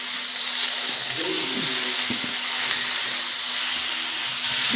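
Par-boiled cut potatoes fry in a pan of cabbage kofta curry base, giving a steady close sizzle with a few scraping stirs of a spatula.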